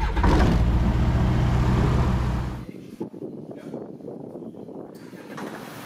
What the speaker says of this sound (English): And the engine engaged.